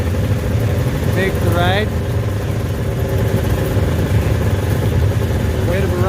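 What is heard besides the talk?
vintage Colt 250 snowmobiles starting and idling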